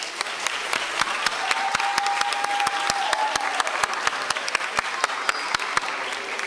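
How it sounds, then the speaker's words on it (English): Applause fills a high school graduation ceremony for the class of 2016, a steady, dense round of clapping from a large crowd that continues throughout, with sharp individual claps standing out above the wash. "Please give your parents, guardians, families, and friends a resounding round of applause."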